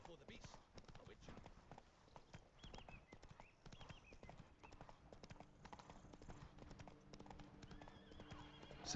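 In the video game Witcher 3, a horse gallops with rapid clip-clop hoofbeats and gives a neigh, under game sounds and speech throughout.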